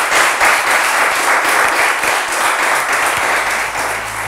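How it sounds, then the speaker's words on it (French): Studio audience applause for a quiz show contestant, a loud, dense and steady burst of clapping that fills the whole few seconds. "je propose qu'on l'applaudisse très très fort"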